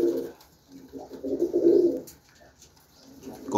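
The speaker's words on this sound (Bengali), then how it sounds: "সাথে আরো এই পাশে আরো কবুতর আছে আমাদের।" Pigeons coo in a rooftop coop kept alongside quail, with soft, repeated throaty calls rising and falling in two short bursts, close and clear with no talking.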